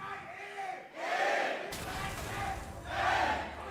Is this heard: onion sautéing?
no